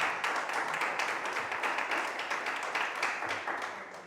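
A church congregation claps and applauds together, a steady dense wash of hand claps that holds for several seconds and tapers slightly toward the end.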